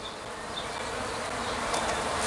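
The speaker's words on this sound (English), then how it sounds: "So there they go, swarming, and we found them a nice tree over here" Simulated bee swarm buzzing steadily and densely throughout, a continuous insect drone that swells slightly toward the end.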